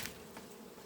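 Honeybees working at an autumn hive give a soft, close, continuous buzzing hum for under a second, faint and with no talk.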